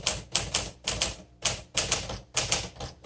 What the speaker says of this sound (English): this is a great typewriter for everyday use.